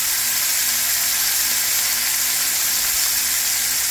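Scallops sear in a hot frying pan, a steady, dense sizzle and crackle holding at even loudness the whole way through with no voices.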